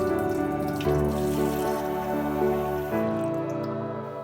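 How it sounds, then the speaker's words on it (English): Steady cold running tap water splashes continuously into a sink, close by, rinsing vegetables, with the flow shifting slightly before easing off. "you rinse this in cold running water"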